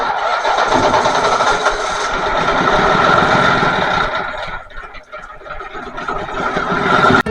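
A Mitsubishi 6D15 diesel generator engine cranks and catches, then settles into a loud, steady, rumbling run that dips briefly before picking up again, close to the listener.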